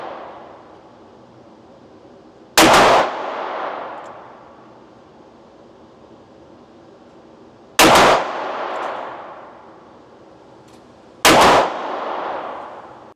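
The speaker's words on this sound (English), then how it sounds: "here you can see what it's doing shooting 357." Three loud, sharp .357 Magnum revolver shots fired several seconds apart, each a hard crack with a ringing decay, no voices heard.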